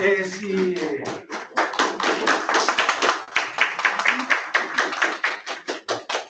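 Audience applause after a student's presentation on a Kanban task manager project, a steady patter of many hands clapping at moderate volume for several seconds, thinning out toward the end.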